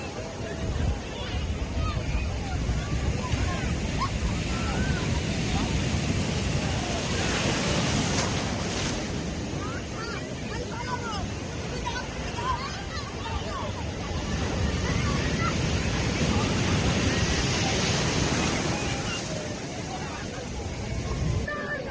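Sea waves rolling onto steep Puri beach in Odisha, a continuous rushing surf with rising and falling swells, mixed with wind buffeting the microphone and a background murmur of people.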